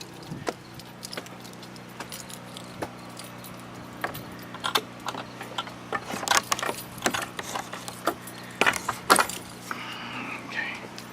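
Keys jangle and click in a lock while a trailer is unlocked outdoors after a hurricane, a series of sharp metallic rattles growing busier toward the end over a steady low hum.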